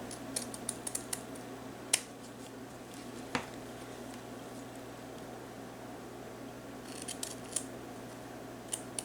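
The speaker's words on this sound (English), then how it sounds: "so I'm just going to give them a little trim." Scissors trim felt letters for a fall banner, giving faint, quick snips scattered through a quiet room with a low steady hum, a couple of sharper clicks standing out, and a short cluster of cuts near the end.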